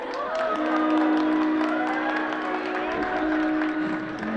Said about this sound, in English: So let's start the night with a huge round of applause for all of you guys.